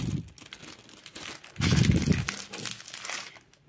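A plastic bag holding brown seed beads crinkles and rustles up close, with a louder burst of crackling partway through, then softer handling noise.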